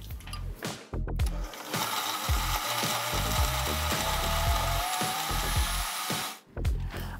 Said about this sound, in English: And now just blend this till it's really smooth.